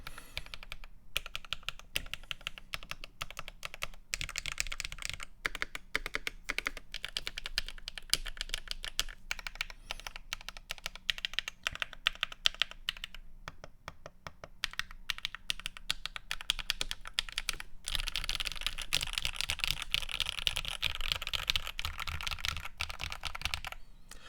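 A modded mechanical keyboard, a Keychron Q1 or GMMK Pro fitted with purple panda switches, is typed on rapidly and steadily up close. The keystrokes are dense and clacky with brief pauses and no speech.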